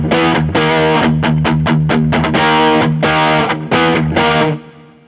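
Electric guitar played through a Klon clone overdrive pedal, loud driven chords and picked notes in rhythmic bursts with short gaps, ringing out and fading at the end.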